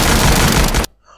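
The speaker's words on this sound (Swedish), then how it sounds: "Soldaterna och Kellerman avfyrar sina vapen." Soldiers firing their weapons together in a wartime execution scene, a loud dense burst of gunfire lasting under a second before cutting off abruptly to near silence.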